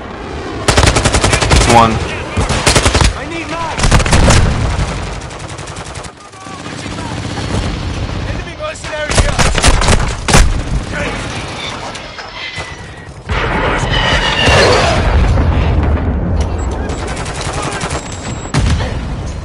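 Sustained automatic gunfire in Modern Warfare, with dense loud bursts and rapid fusillades that break off and resume across the stretch, a brief spoken word mixed in.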